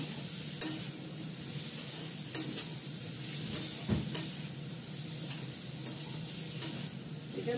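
Food sizzles steadily in a pan while a spatula scrapes and clinks now and then as it is stirred, with no talk.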